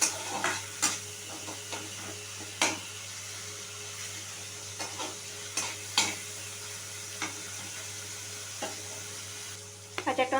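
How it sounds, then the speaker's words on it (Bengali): Half-boiled tomato fries in a pan with a steady, close sizzle, while a utensil stirs and scrapes it in occasional sharp strokes; no one talks. "টমেটোটা একটুখানি ভেজে নিতে হবে"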